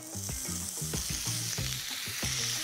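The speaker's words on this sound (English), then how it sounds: "what we're going to do now is caramelise the sirloin all over to give it a really fantastic flavour and finish" Beef sirloin, cured and smoked, caramelising in a hot pan, giving a steady close sizzle and crackle with broadband hiss throughout, broken by repeated low thumps and scrapes from stirring or moving the meat, with no talking.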